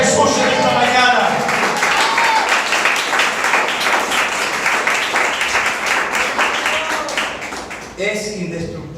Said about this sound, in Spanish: Dale un aplauso a Jesús en esta mañana.